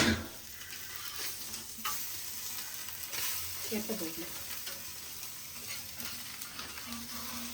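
Fish and prawns frying in a pan, a soft continuous sizzle with occasional stirring scrapes and faint clatter, low in level.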